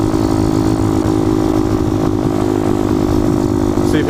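Mini bike engine revving hard at a red light, a loud, steady buzzing drone that holds for the whole stretch without letting up.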